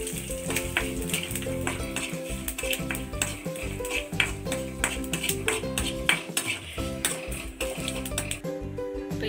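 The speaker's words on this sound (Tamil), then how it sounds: "கடுகு சீரகம் நல்லா பொரிஞ்ச உடனே கருவேப்பிலை போட்டுக்கலாம்" Mustard seeds, cumin and curry leaves fry in hot oil for peanut chutney, giving a dense, continuous sizzle with rapid sharp popping and crackling throughout, close and loud.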